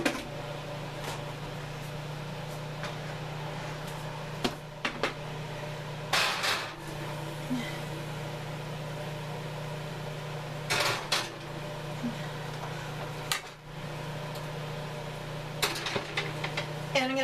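Tray of turkey enchiladas going into a home oven: a few scattered metallic clanks and knocks from the pan and oven rack over a steady low kitchen hum, with no talking.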